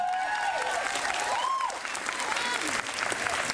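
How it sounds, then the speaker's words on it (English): Brief applause from an audience for a group of tenor singers, moderate clapping with whoops and tonal voices or whistles mixed in, steady for a few seconds. "Give them a round of applause."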